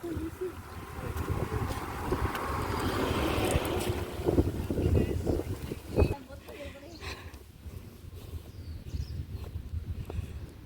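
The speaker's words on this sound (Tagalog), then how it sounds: "Ang lamig tapos mahangin." Cold wind gusting on a mountain hike at Tai Mo Shan, buffeting the microphone in rough, uneven rushes that rise and fall throughout, with people talking now and then.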